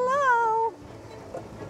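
A big cat at the Wildcat Sanctuary in Sandstone, Minnesota gives one loud, drawn-out meow-like call lasting under a second, then fades to quiet background ambience.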